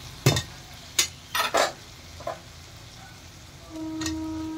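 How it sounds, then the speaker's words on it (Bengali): Boiled potatoes are stirred into a pan of spices and bean seeds for an egg curry, giving a few sharp spoon scrapes and clatters against the pan, then a low sizzle and faint hum with no talk. "দিয়ে আর একটু ভালো করে মশলার সাথে কষিয়ে নেব।"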